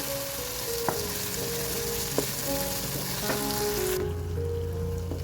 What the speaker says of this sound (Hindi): उसको अच्छी तरह मसाले और भिंडी को मिक्स करेंगे।